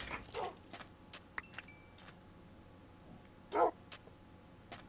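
A tamed dog in Minecraft on Wii U yelping after being struck by accident, a few short quiet yips and barks with small clicks in between, mostly faint.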